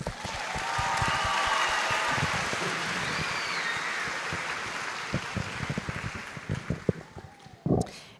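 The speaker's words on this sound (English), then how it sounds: "Let's give another round of applause." A graduation audience applauds in a dense, steady wash of clapping that fills most of the clip, then thins into scattered claps near the end.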